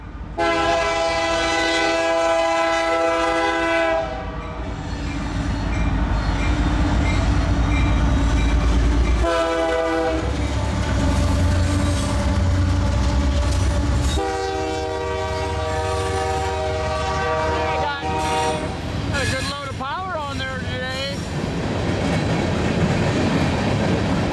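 Westbound CN L571 freight train passing in Iowa, its horn blaring loud and close in long repeated blasts over the deep rumble and clatter of rolling cars.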